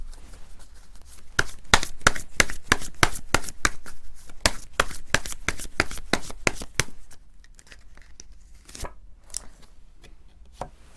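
Tarot cards are shuffled in a quick, steady run of crisp riffling bursts, close and clear, that slows into a few scattered snaps near the end.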